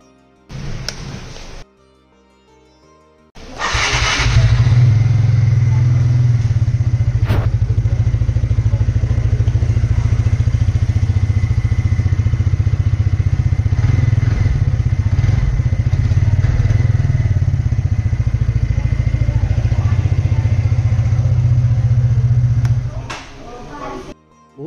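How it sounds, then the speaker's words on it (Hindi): A TVS Ntorq 125 Race XP scooter's exhaust runs at a steady, loud idle for about twenty seconds, close to the microphone, after a brief start-up burst and a short pause. "अब हम इस स्कूटी का एग्जॉस्ट साउंड सुनने वाले हैं।"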